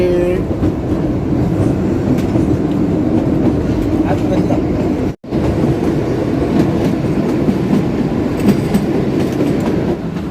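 The Kalka–Shimla toy train rumbles steadily along its narrow-gauge rails with a continuous clatter, briefly cutting out for a moment midway before the running noise resumes.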